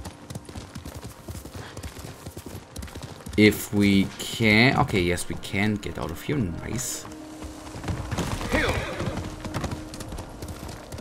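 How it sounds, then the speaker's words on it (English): Horse hooves clip-clop at a quick gallop in the video game Ghost of Tsushima, with a loud neigh and whinny partway through, while someone talks over the game sounds. "mounting our horse and going on."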